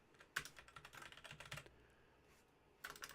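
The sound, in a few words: typing on a computer keyboard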